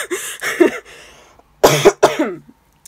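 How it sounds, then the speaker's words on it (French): Someone coughs several times up close, a loose run of throaty coughs, a pause, then two more sharp coughs. "J'ai très envie de tousser."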